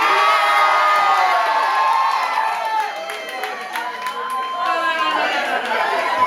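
Loud crowd cheering, whooping and shouting at a Jamaican-style Oktoberfest event to back a contestant, a sustained roar of voices with chatter that dips briefly midway before swelling again.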